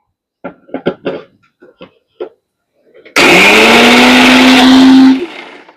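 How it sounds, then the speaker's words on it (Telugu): A few soft knocks and clicks, then a mixer grinder whirs loudly and steadily for about two seconds before winding down. "మూత పెట్టి మిక్సీ పట్టుకొని వచ్చేస్తా అండి"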